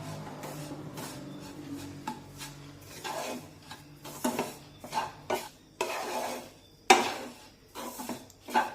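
Semolina and grated coconut are dry-roasted in a pan and stirred, giving intermittent scraping and clinking of a spoon against metal, close and moderately loud, with gritty rubbing between strokes.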